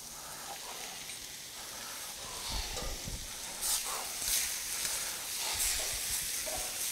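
Potatoes and carrots fry in a guajillo and pasilla chile adobo, giving a steady, close sizzle and hiss, with several louder spitting bursts as the vegetables are moved in the pan.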